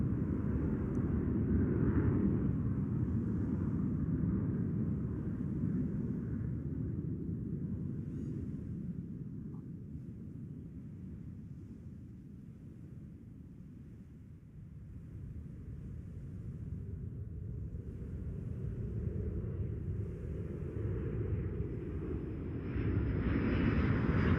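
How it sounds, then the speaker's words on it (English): B-52 bomber flying overhead, heard as a deep, steady low rumble of jet engines that swells, dips and swells again over about twenty-four seconds, moderately loud with no voices. "It was a B-52. It flew directly over my head."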